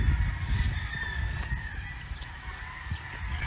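Chickens and a rooster at a neighbour's coops: a rooster crows in the background over scattered clucking and low rustling ambience, moderately distant and fairly quiet throughout.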